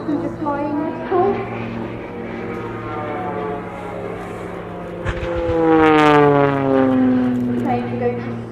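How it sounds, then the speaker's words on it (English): A propeller aircraft performs snap rolls at the Farnborough Airshow 2018. Its engine drones loudly with a rising and falling pitch as it passes, under a commentator's steady talk. "Snap rolls, very popular when we take passengers flying at school."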